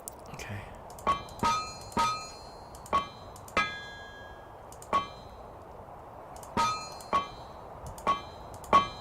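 Metal clangs ring out from an anvil in TerraFirmaCraft while an iron ingot is being worked, about a dozen sharp hits coming in quick pairs and irregular bursts, each with a bright ringing tail over a low background hiss.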